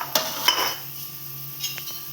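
Cooked rice tipped from a utensil into spiced masala in a hot pan, with two sharp metallic clinks and scraping at the start, a soft sizzle underneath, then a few lighter taps.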